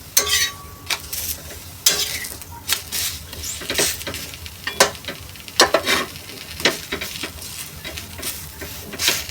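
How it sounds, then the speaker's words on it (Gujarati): Sponge gourd pudla, a gram-flour pancake, frying in a pan, with steady sizzling broken by repeated sharp scrapes and clinks of a spatula against the pan, close and fairly loud. "બંને સાઈડ ફ્રાય કરવાની છે।"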